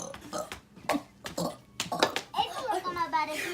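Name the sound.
child burping a bunny rabbit burp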